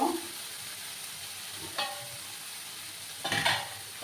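Hot water is poured into spice paste frying in oil for a fish roe dish, setting off two short bursts of sharp hissing sizzle over a low background crackle.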